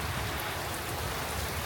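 Heavy rain pours during a violent thunderstorm, a dense, loud, unbroken hiss of downpour filling the whole short stretch, with no voices and no thunderclap standing out.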